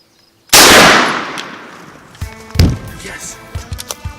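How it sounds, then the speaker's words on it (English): A shotgun fired at a wild turkey during a Pennsylvania spring hunt: one sharp, loud, close blast with a long decaying roar, followed by rustling and thumping movement in brush. "I could put my shotgun up,"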